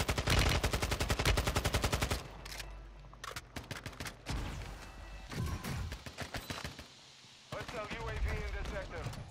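Bursts of simulated gunfire from a decoy grenade in Warzone 2.0, rapid automatic rattles followed by scattered shorter volleys, fairly close, with players talking in between.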